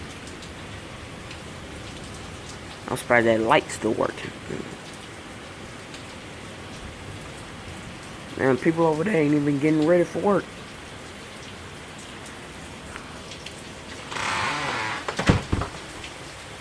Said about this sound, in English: it's raining harder than a mug, boy.